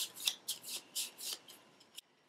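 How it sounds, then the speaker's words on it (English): A deck of cards for the Core Worlds board game being shuffled, a run of crisp riffling bursts about every quarter second ending in one sharp snap, close and quiet. "In Sector 5, we shuffle up the deck"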